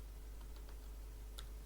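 Someone types on a computer keyboard while making a list in MS Word, producing a few faint, sparse key clicks over a low steady hum, with one sharper tap near the end.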